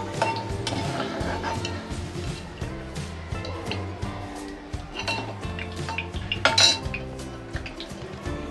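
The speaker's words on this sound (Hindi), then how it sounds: "एक प्लेट में इस तरह से निकालना है तेल को नितारते हुए" Fried onions are lifted from oil onto a plate while cooking chicken korma, heard as a steady stream of light clinks and taps of a utensil against a pan and plate, with a louder clatter near the end.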